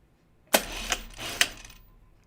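A sewing machine runs in three quick bursts of stitching, each a short sharp start followed by a brief buzzing run, close and clear in an otherwise quiet room.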